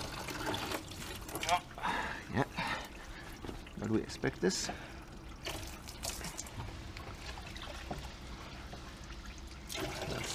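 Coolant drains from a 2013 Renault Megane 1.5 dCi engine during a timing belt and water pump job, trickling and splashing unevenly into a catch container while someone talks over it.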